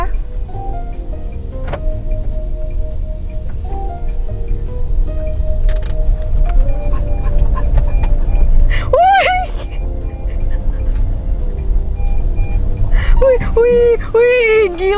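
A Honda Brio RS facelift with a manual handbrake is thrown around an empty lot in a handbrake test. A steady engine rumble runs beneath two bursts of high, wavering tire squeal, and someone talks throughout.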